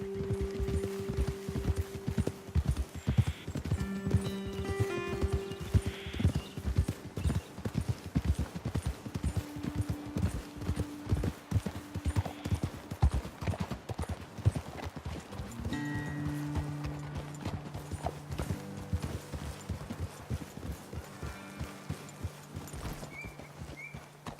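Horses' hooves clip-clopping along a trail in Red Dead Redemption 2, a steady close walking rhythm with occasional snorts and a whinny, continuing throughout over soft game music.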